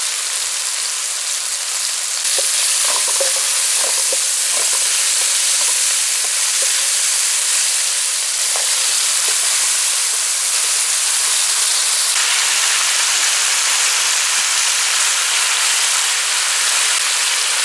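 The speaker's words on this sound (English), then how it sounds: "So we're gonna add our chopped tomatoes now." Chopped tomatoes hit a hot pan of Bangamary fish curry, setting off a loud, steady sizzle and frying hiss that carries on unbroken, with a few faint stirring clicks near the start.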